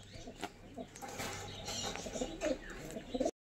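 Chotiyal pigeons, a paired male and female, give soft low coos amid rustling and faint fluttering close by, quiet and brief, with no one talking.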